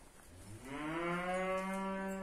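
A newly bought cow on a farm lets out one long, rising moo, close and clear, holding steady to the end with no talk over it.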